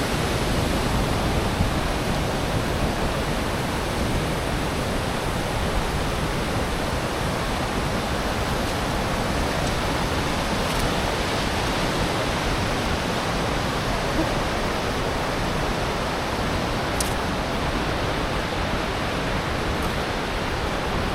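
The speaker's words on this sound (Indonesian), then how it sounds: "airnya sangat deras" Steady, dense rush of fast-flowing water near Curug Cilaki waterfall, close and constant for the whole stretch with no talk over it.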